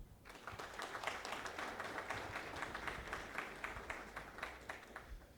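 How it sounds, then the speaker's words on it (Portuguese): Faint, distant clapping from a small audience at a formal Brazilian public-sector presentation, individual claps audible in a loose, steady patter that carries on for several seconds without voices. "vamos recebê-lo com uma grande salva de palmas"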